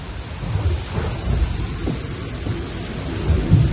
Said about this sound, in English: That's the hail.